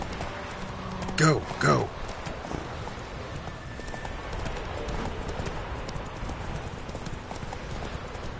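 Roach the horse in The Witcher game, hooves clip-clopping at a gallop with a loud whinny near the start, while a man urges the horse on.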